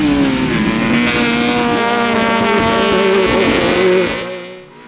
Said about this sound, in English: it's Stephen Smith's rapid little B16 Honda powered Mini that is McLaughlin's closest challenger